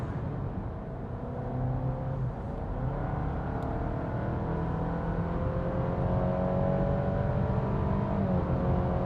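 A Honda ZR-V accelerates from inside the cabin, its engine drone rising in pitch in stepped simulated gear shifts, steady and moderately loud under road and tire noise.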